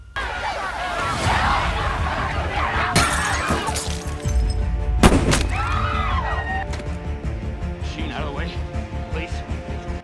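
In a chaotic film scene, a couple of sharp gunshot blasts ring out among crashing, shattering impacts, with voices shouting over the din.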